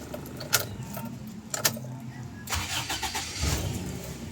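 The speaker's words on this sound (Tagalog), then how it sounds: "Switch off ko nga muna itong makina, tapos i-start ko ulit yan." A Toyota Revo diesel engine is switched off and restarted: key clicks and brief starter bursts, then from about 2.5 seconds the engine catches and runs with a steady rumble, recorded close by, with a mechanic nearby.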